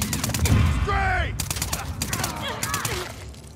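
Gunfire from The Last of Us Part II rattles in dense bursts beneath overlapping voices and game ambience, loud and continuous across the moment.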